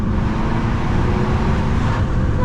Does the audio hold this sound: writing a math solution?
no